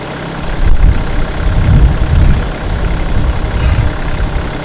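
A Kioti tractor's diesel engine runs at a loud, steady low idle close by, with a rough rumbling pulse and no voices.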